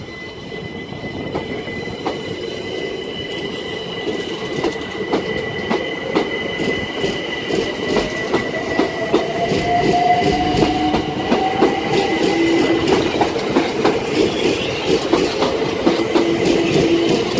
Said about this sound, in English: 376035 is now departing after its next stop of London Bridge.